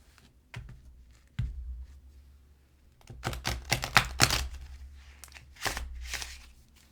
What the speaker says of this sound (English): I need to give this guy a good little shuffle here.